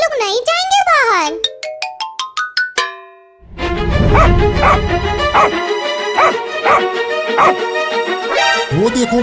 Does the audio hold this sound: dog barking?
yes